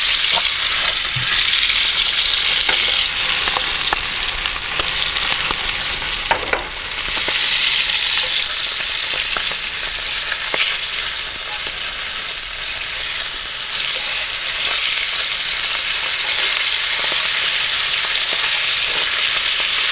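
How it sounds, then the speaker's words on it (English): German brats fry in hot bacon grease at a campsite, a loud, dense, continuous sizzle and crackle with scattered pops, close up and steady throughout, with no talking. "And now going into a hot oil like this, they're not liking it"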